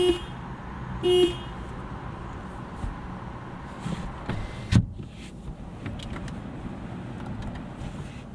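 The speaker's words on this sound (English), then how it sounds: "Here's the honk test." Two short horn toots from a 2021 Toyota Corolla Hybrid near the start, over a steady low engine hum, followed by a single thump and continued idling.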